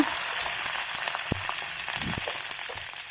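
Dried red chillies and mustard seeds fry in hot oil with a steady hissing sizzle and a few soft pops and crackles, close and moderately quiet.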